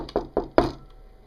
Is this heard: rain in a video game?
no